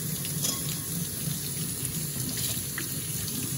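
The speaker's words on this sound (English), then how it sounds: "we're gonna run them under cold water for about 30 seconds" Cold tap water runs steadily over drained cooked food in a kitchen sink, a continuous close splashing hiss with no talk.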